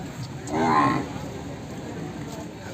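A buffalo at the Erragadda Sunday buffalo market lets out one drawn-out moo, loud and fairly close, over a steady background of market noise.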